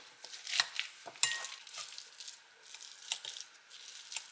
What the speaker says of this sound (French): on va les égoutter et on va pouvoir les écraser avec un presse-purée